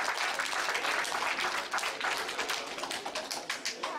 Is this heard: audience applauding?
yes